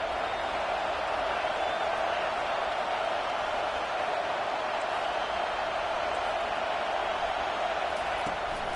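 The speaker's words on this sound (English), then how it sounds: "And wow, listen to this crowd noise. This stadium is vibrating." A dense, steady roar from a packed football stadium crowd fills the whole stretch without letting up, a broad wash of many voices at a distance and no separate cheers or claps standing out.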